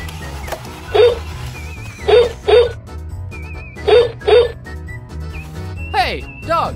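Dog giving a series of short, sharp barks and yips in pairs, close and loud, with a few high whimpers between them, over a faint background hum.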